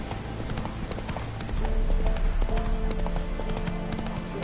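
A horse's hooves gallop in a video game, a rapid steady clip-clop that grows louder partway through, layered over game music and effects.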